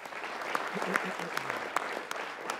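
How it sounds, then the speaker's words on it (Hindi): A studio audience on a cricket talk show claps for India's 2024 World Cup win, with scattered, uneven claps heard under ongoing talk. "एक बार इंडिया के लिए तालियां होनी चाहिए"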